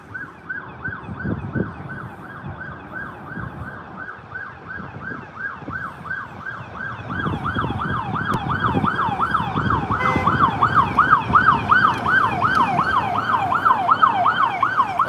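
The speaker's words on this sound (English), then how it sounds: "And here comes a police car." A police car siren wails on a Washington DC street at night, rising and falling in a fast, regular cycle that grows louder as it approaches, with road traffic rumbling underneath.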